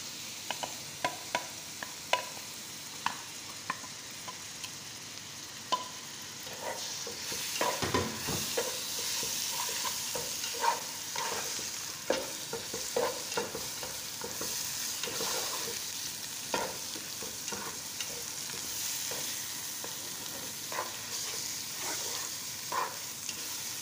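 Tomatoes fried for fish maqluba give a continuous close sizzle, punctuated throughout by the clicks and scrapes of a spoon stirring in the pan.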